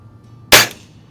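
A Diana springer air rifle fires a pellet with one sharp, loud crack that decays quickly into a low hum, close by and alone.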